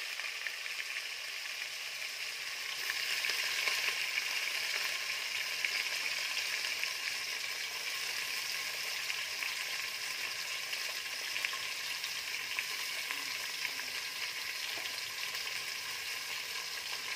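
Sliced onions frying in oil for chicken biryani, a steady broadband sizzle that holds evenly throughout at moderate loudness, with no talk.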